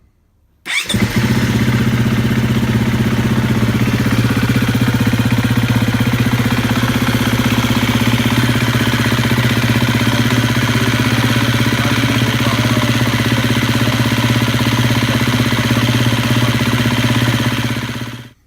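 A KTM 350 EXC-F dirt bike engine starts up after an oil change and settles into a steady, loud idle, its low rumble running unbroken for most of the clip before cutting off.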